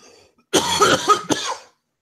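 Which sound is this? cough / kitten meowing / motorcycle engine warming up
cough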